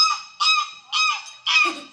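A voice imitates a goose, giving four loud nasal honks in a steady rhythm, each about a third of a second long.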